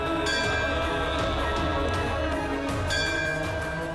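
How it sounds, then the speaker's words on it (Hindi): A bell rings on its own in a devotional Hanuman drama, clear tonal strikes recurring with long sustained ringing over a dense layered background. "फिर ये घंटी कैसे बज रही है अपने आप ही?"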